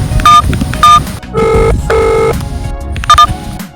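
A phone call being dialed to a friend: several short bursts of electronic dialing tones in an uneven sequence, fairly loud and close, with a steady hum underneath and no talking.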